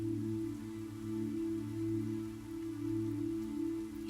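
Raindrops pattering on window glass in a steady, dense wash of soft taps, continuous and even, with a low hum underneath and no voices.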